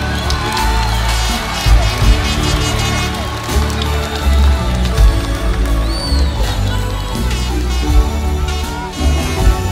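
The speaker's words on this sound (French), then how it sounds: "Applaudissez-le, il est là." Audience at a live concert at Bercy cheering and shouting over loud, continuous music, a dense crowd roar with whoops rising through the mix.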